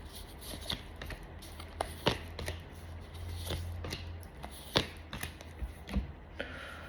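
Close, crisp riffling and tapping of cards being shuffled for a fortune-telling reading, coming in uneven bursts with short pauses between them.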